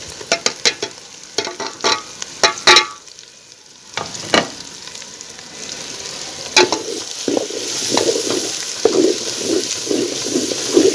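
Chicken masala frying in a pot with red chili, turmeric and salt, loud spoon scrapes and clanks against the metal over a rising sizzle that grows steadier and more bubbly toward the end.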